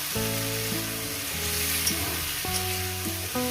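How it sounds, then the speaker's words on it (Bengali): Onion, garlic, ginger and green chili frying in a pan for chicken curry, a steady close sizzle with soft stirring scrapes running throughout, no voices. "এভাবে আমি 2 মিনিট ধরে এটাকে ভেজে নেব"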